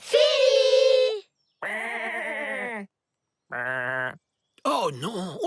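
Sheep bleat in four separate drawn-out calls with short silences between them, loud and close by a campsite pitched on their grazing ground.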